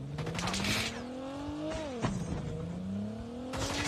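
Car driven in Call of Duty Mobile, engine tone climbing steadily through shifts with a brief drop and rise again, close and continuous amid game noise.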